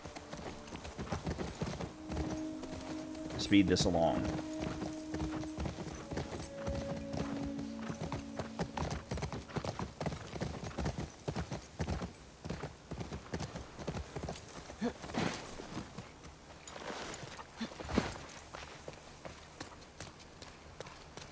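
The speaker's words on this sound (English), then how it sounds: "Thank God for the horse." Horse hooves clip-clop steadily in The Last of Us Part II, set in Seattle, with an occasional whinny, under game music and a voice talking over the gameplay.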